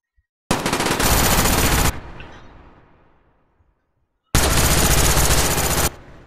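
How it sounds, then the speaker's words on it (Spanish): Two long bursts of sustained automatic gunfire from the video game Call of Duty Black Ops, loud and close, separated by a decaying echo and a few seconds of silence. "Básicamente, he matado a uno y me ha matado Flanker"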